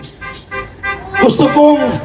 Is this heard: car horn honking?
yes